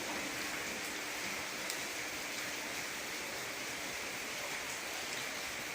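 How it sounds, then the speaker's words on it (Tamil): Heavy rain pours down around a house in a dense, unbroken hiss that stays loud and constant throughout, with no talking. "செம மழை பெய்யுங்க சவுண்டு கேட்குது அவங்களுக்கு"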